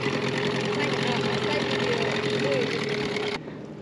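A motorboat engine runs steadily with an even mid-pitched drone and vibration at a reservoir, close and loud before cutting off near the end, while people talk over it.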